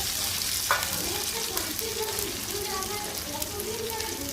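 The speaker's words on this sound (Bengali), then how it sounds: "পেঁয়াজটা ভাজা হয়ে গেলে আমি আলুগুলো দিয়ে দেবো পেঁয়াজের মধ্যে" Potatoes stirred into frying onions in a pan, giving steady close sizzling with scraping stir sounds and a brief clatter early on, no talking.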